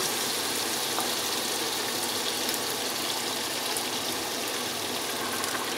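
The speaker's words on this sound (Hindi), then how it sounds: "बस अब इसको पानी लगाना" Water is poured into a pot of mutton curry cooking on the stove, a steady broadband gushing and hiss that runs continuously and fairly loud for several seconds with no voices.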